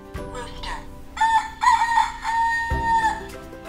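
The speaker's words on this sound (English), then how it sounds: "Let's see how the rooster wakes up the farmer." One loud, close rooster crow stretches out over a couple of seconds, bright and drawn out, with faint background clatter.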